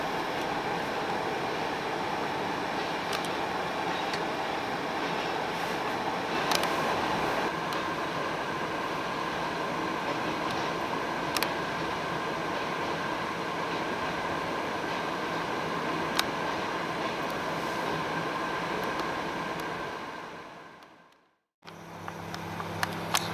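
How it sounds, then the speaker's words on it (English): A Maryland Midland freight train, the UBHF, rolls through northern Maryland farmland with a steady, broad rumble and rail noise that holds for about twenty seconds before cutting out abruptly. "I once again intercepted the rear of the train in Detour"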